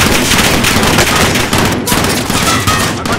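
Dense automatic gunfire in a video game shootout, with rapid overlapping bursts close and loud throughout, almost continuous and with no pauses.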